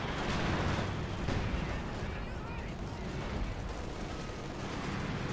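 Mortar fire and explosions rumble through a Company of Heroes battle, a dense, continuous wash of distant booms and crackling gunfire with no single blast standing out.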